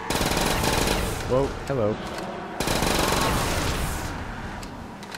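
Rapid machine gun fire in a zombies video game, long continuous bursts of clattering shots with a brief pause midway, while a player speaks over it.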